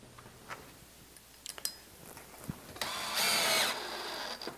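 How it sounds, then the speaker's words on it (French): A power drill drives screws into the bottom rail of an AIKA sliding system during installation, giving a loud continuous whir of about a second after scattered small clicks and knocks, with no talking. "Nous avons vissé toutes les vis dans la rail."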